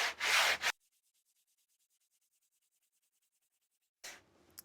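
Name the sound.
sanding guitar fretboard with radiusing block in jig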